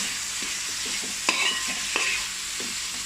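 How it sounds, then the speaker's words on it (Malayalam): Prawns being stirred into sizzling masala in a pan for idiyappam prawn biriyani, with steady frying hiss and a few sharp scraping clinks of the spoon against the pan, close up. "ചെമ്മീൻ ചേർത്ത് കൊടുക്കുക. നന്നായി ഇളക്കി."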